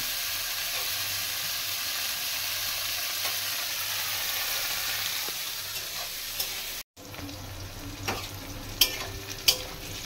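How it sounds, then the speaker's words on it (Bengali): Bitter gourd coated in salt and turmeric fries in hot oil with a steady, close sizzle and hiss, broken by a brief dropout, then occasional sharp clinks of a spatula stirring the pan. "এবারে আমি উচ্ছেটাকে খুব সুন্দর মতন ভেজে নেব।"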